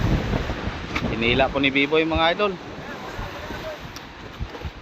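Strong north wind buffets the microphone with a rough, continuous roar while someone speaks briefly over it.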